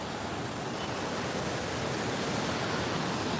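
Floodwater from unseasonal rain pours over an old bridge in a constant broadband rushing roar, steady and unbroken, with no talk.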